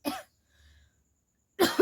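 Two real coughs from someone with a cold, a sharp, loud burst at the start and another near the end, separated by near silence.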